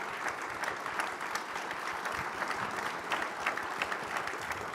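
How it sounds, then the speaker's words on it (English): Audience applause for the panelists at a health and wellness session of the 2022 Midwest Regional Hispanic Leadership Summit: dense, steady clapping that fills the whole stretch evenly, with no voices over it. "So let me ask you to give a round of applause to our panelists here."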